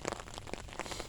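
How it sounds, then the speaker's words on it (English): Rain falling steadily in a cemetery, a soft broadband patter of drops on surfaces and stones, fairly faint and continuous with no talking. "Maybe the rain will quit."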